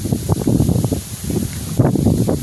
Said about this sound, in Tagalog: Malakas ang hangin.